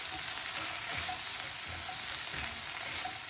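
Sabudana (tapioca pearls) fry in a pan for khichdi, giving a continuous, even sizzle with soft stirring, close and unbroken throughout.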